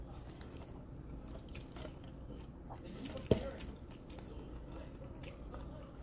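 Someone chews a mouthful of arugula mixed with salted shrimp close up, with soft, quiet crunching and squishing bites and one sharper snap, while a voice talks faintly in the background.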